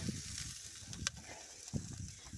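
Quiet, steady sizzling of duck frying in a pan, with a few soft clinks and taps over the crackle.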